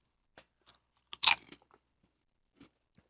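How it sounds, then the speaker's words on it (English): Someone bites into super crunchy potato chips, giving one loud close crunch in the middle, with a few faint clicks and small crackles around it and no talk. "Those are some super crunchy chips."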